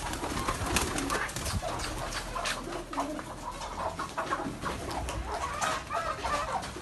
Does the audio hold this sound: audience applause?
no